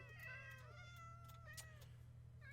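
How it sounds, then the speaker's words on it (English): Several cats meow in quick succession in Minecraft with the Ars Nouveau mod, overlapping high mews over a low steady hum, quiet and close. "Let's spawn some cats. So we're gonna spawn some cats in this fence here."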